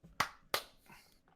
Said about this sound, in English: That was a shitty clap.